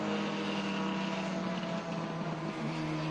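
Racing cars, a Triumph TR4 and a Corvette among them, roar steadily past on a track in a continuous loud engine drone with a slight pitch shift, no voices heard.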